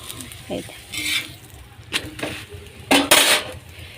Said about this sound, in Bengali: 1 চামচ তেলেই কিন্তু আমি পরোটাটা ভাজবো